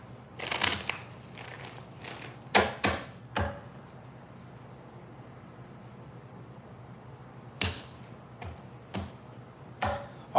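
Tarot cards are shuffled in short bursts of crisp riffling and tapping, two clusters near the start, a pause, then another flurry and a few single clicks, close and quiet against a faint hum.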